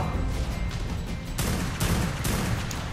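Rocket launcher fire in the video game ARK with ultra mods, a dense roar of explosive gunfire with sharp blasts landing at intervals over a continuous rumbling barrage, loud and close, with no talk.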